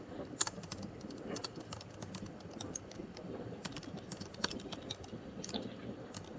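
Fingers typing on a computer keyboard while writing a PowerShell script: a steady run of quick, light clicks, fairly faint and close, with no talking.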